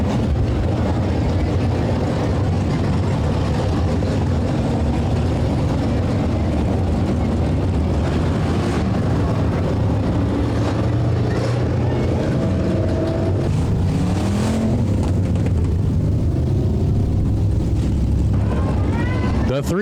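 A purple 3X hobby stock race car runs the front stretch of a raceway at a weekly Friday night racing series, a loud continuous engine roar mixed with other cars, while an announcer talks over it.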